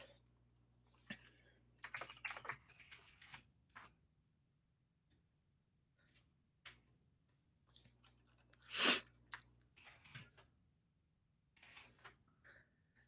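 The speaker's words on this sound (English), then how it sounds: "Sorry if you can hear me typing, by the way. I have a pretty loud keyboard" Loud computer keyboard typed on in irregular bursts of clicky keystrokes over a low steady hum, with one sharper loud clack near the middle and pauses between runs.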